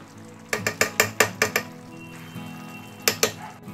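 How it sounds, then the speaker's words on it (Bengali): A rice and bottle gourd dish being stirred in a pan after sugar goes in: a run of about eight sharp, evenly spaced spoon scrapes against the pan, a pause, then two more strokes over a low steady sizzle. "চিনি দিলাম, একটু ভালো করে নেড়ে দিচ্ছি"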